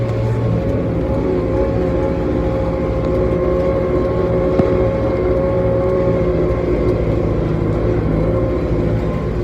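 Erkunt Kudret 105e CRD4 tractor pulling a Pottinger implement across a dusty field, its diesel engine droning loud and constant with a steady low hum and no change in pitch, no voices.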